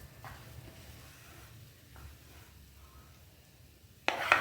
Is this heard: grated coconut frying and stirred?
yes